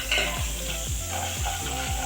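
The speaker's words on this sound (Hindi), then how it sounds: "थोड़ा सा हमने मसालों को भूना है ऑयल में, ताकि इसका कच्चापन निकल जाए।" Spices frying in two tablespoons of hot oil for a daal kachori filling give off a steady, close sizzle, with regular rhythmic stirring scrapes repeating about every half second.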